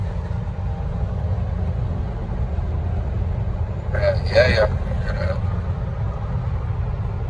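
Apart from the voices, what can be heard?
supercharged car engine on highway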